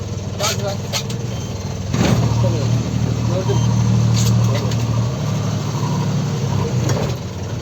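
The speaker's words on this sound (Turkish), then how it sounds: "Rölantide. Rölantideyiz." A fishing boat's engine idles steadily at sea while fishing for bonito and horse mackerel, a low constant drone under wind and loud nearby talk.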